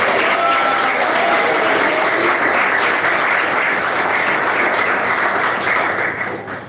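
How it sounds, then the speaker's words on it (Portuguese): A church congregation claps during a Portuguese sermon, a loud, dense roar of many hands held steady for several seconds before tapering slightly at the end. "Pode bater palmas"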